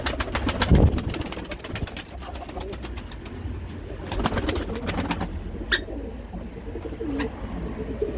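An Iraqi pigeon coos repeatedly nearby, soft throaty calls over a background of chirping birds and ambient noise.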